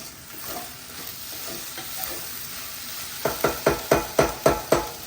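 Asafoetida goes into a hot oiled pan for kaju paneer pulao, giving a soft continuous sizzle, then a run of about eight quick, evenly spaced stirring scrapes near the end.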